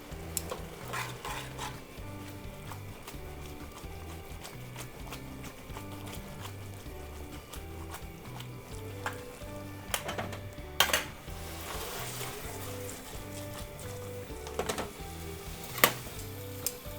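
Pasta with onion arrabbiata tomato sauce is tossed in a pan over high heat, giving a rhythmic sizzle and stirring with clinks of pan and utensils, steady and moderately close.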